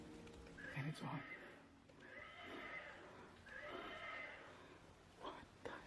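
A child's rocking horse toy in a Minecraft horror map whinnies in three drawn-out, wavering neighs, fairly close and moderately loud, with brief breathy noises between calls.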